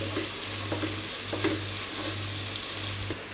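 Green chillies and onions with salt sautéing in a pan for chicken curry, a loud close sizzle with a low steady hum beneath and periodic stirring scrapes, no one speaking.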